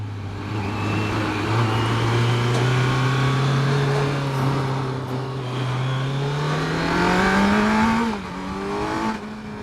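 A 2022 Kawasaki Z900 50th Anniversary Edition inline-four motorcycle engine drones steadily and loudly, then revs up to a higher pitch near the end, with a smooth, even tone and no talking.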